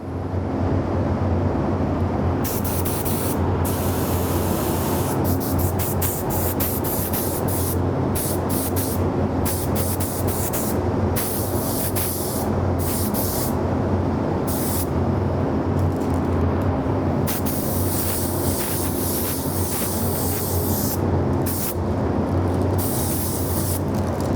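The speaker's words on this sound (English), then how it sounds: "turn the booth on, and spray this sucker" A spray gun painting a Boba Fett helmet in a spray booth hisses continuously and loudly for a long stretch, broken by brief stops and restarts, under a steady droning booth fan.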